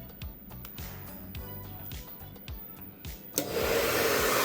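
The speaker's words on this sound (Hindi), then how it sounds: "तो यहाँ पर सबसे पहले मैं आपको हेयर ड्रायर चलाकर दिखा देता हूँ।" A roughly 700-watt hair dryer running on a Microtek Heavy Duty VTurbo 1550 12-volt inverter: rhythmic low ticking gives way to the dryer's loud, steady blowing roar as it switches on and runs.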